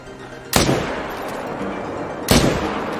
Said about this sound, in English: we are out here in MedVed shooting brown bears